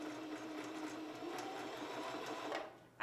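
A sewing machine stitches ribbon onto skirt fabric, whirring in a fairly quiet, continuous run that stops abruptly near the end with a small clunk.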